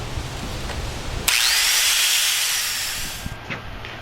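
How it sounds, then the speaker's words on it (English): A grinder sharpens the edge of a homemade steel knife blade, starting abruptly with a loud, steady, close hiss that carries on for a few seconds and then eases off. "I've been working on this one side here with the grinder"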